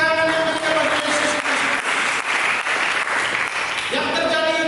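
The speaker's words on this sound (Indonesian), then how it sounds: "Mari kita berikan tepuk tangan yang meriah bagi Yesus." A church congregation at an Indonesian sermon breaks into loud, dense clapping that holds steady for several seconds, with a musical tone briefly audible at the start and end.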